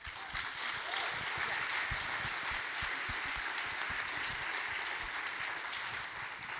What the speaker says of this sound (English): If we could just clap.